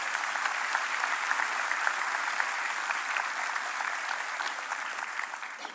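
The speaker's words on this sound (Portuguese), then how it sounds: "Dê um aplauso para Jesus" A church congregation applauds for Jesus during a worship service, a dense, steady wash of many hands clapping at once that holds strong and even throughout without any voice breaking through.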